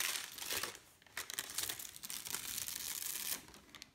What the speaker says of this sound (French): vous n'avez plus qu'à enlever votre papier